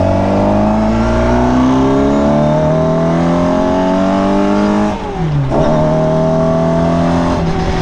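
A 1965 Mini Cooper revving hard at close range, a loud, continuous engine note climbing through the revs with a brief dip and recovery as it shifts, with no talk.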